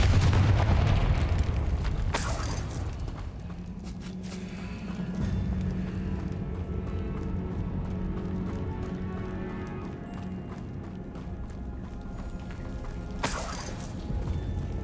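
A Confringo blasting spell cast in the Hogwarts Legacy video game, a loud booming burst at the start fading into rumbling in-game ambience, with a second sharp crack near the end.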